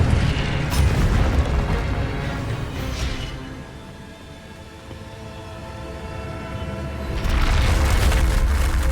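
A loud Incendio fire spell cast in the Hogwarts Legacy video game: a heavy booming whoosh swells, eases into a sustained rumbling roar, then surges loudly again near the end, with no talk.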